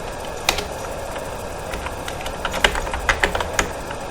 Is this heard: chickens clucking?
no